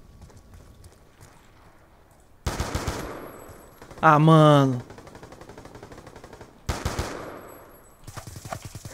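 Rapid bursts of automatic gunfire in Black Ops 2 on PC, two long volleys and a third starting at the end, with a short exclamation from a voice between them.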